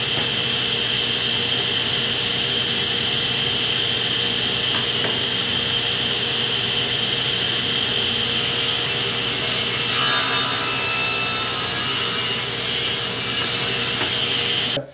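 A handsaw cuts an angled slope into a wooden 2x4 board for lumber rack brackets, with steady, continuous rasping strokes close by that grow harsher and brighter toward the end of the cut.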